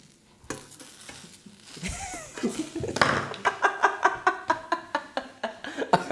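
A Korean seafood pancake (haemul pajeon) sizzles in an oiled pan as spatulas slide underneath it, followed by a run of rhythmic, close scraping and stirring strokes while people chuckle softly.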